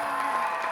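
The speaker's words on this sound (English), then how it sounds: "add a bunch of people clapping in the background when I introduce Homer" A short burst of crowd applause and clapping, dubbed in as a background effect to greet a guest, forms a dense, steady wash of many hands at an even level throughout.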